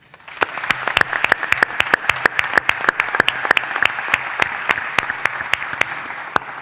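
An audience at a congress applauds its organizers, with dense, steady clapping from many hands that sounds close and fairly loud and keeps going without letting up.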